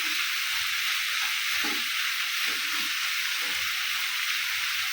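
Bhakura fish frying in hot oil for an Odia fish curry: a steady, close, loud sizzle and hiss runs through without a break, with faint low knocks underneath and no talking.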